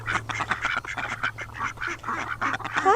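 Several ducks quack in quick, overlapping bursts close by, a busy chorus of honking calls filling the clip with no talk over them.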